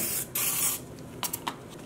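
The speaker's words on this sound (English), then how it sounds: "Make sure before you spray that you are pointing down." A Misto pressurized spray bottle mists acid dye onto yarn in a few close hissing bursts, one long spray followed by several short puffs.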